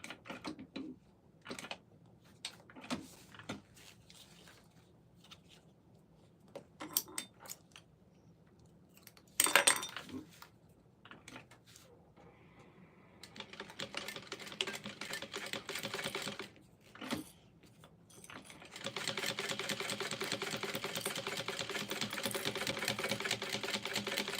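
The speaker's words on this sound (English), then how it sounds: "now we're going to sew this at the seam allowance" Sewing machine stitching the seam of an Ava shoulder bag, starting with scattered mechanical clicks and handling, then a steady close rattling whir that runs in bursts and finally without a break.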